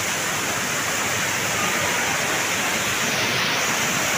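Steady, dense rushing water fills the whole stretch, a constant broadband roar like a waterfall heard from nearby, with no voices.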